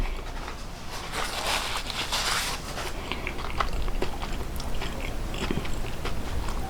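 Crisp crunching bites and chewing on a snack at an El Salvadorian eatery, steady crackly munching up close with no talking.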